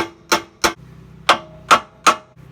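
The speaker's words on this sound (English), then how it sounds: "now I'm going to hit it with a hammer" Five sharp metallic hammer strikes on a steel pitman arm puller under pressure, irregularly spaced, close and loud, each with a brief ringing tail over a low hum.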